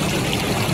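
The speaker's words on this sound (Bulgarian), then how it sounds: "Държиме рибата тука на кислород, дето е падащото водопадче." A small waterfall trickles into water where caught carp and trout are held, giving a steady, close splashing wash with no breaks.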